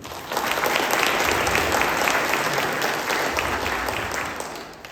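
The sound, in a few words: audience applause after CEO lecture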